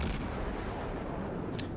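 Warship cannon fire in the naval game World of Warships, a dense, loud rumbling barrage with no distinct gaps, roaring continuously.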